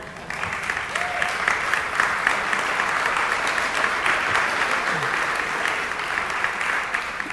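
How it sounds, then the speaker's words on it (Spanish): A church congregation claps steadily for several seconds, a moderately loud, even wash of applause. "Y aplaude a una persona."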